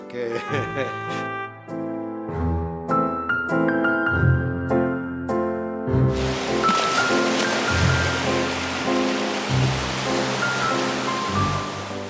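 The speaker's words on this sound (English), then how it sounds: "At dawn, as the private beaches are disturbed only by the waves" Sea waves wash onto a beach at dawn on the Tarquinia coast, a broad surf hiss that rises to the front in the second half, mixed under steady melodic music.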